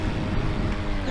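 Motorboat engine in the Kao the Kangaroo 3 video game, a steady low droning hum with a windy, rushing wash, continuous and fairly close, with no speech.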